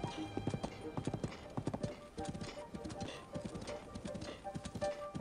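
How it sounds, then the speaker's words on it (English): A horse's hooves clip-clop steadily at the entrance to the Lost Woods in Zelda: Breath of the Wild, a continuous rhythmic patter under game music, with a voice talking over it. "will my horse get in here?"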